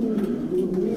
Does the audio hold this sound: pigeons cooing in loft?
yes